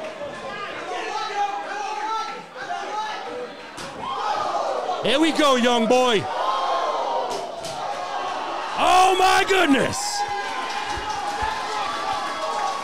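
An arena crowd roars at a pro wrestling show, a loud, sustained wash of cheering that swells in waves beneath excited commentary.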